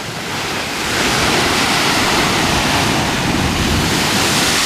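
Lake waves surge and splash against rocky shoreline at Cave Point County Park in Sturgeon Bay, Wisconsin, a loud close roar of surf with wind buffeting the microphone, swelling after the first second and holding steady.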